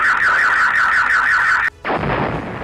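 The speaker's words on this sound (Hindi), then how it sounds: "यूक्रेनी हमले के दौरान पार्किंग में खड़ी गाड़ियों के सेंसर अलार्म बजने लगे" Sensor alarms on cars parked in a parking lot blare during a Ukrainian attack: a loud, rapidly warbling electronic tone holds steady, cuts off abruptly, then gives way to a low rumbling roar.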